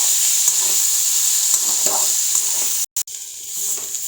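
Ground pea dal being stirred into frying spices in a pan, a steady sizzle with scraping strokes from a spatula, broken by a brief silent dropout.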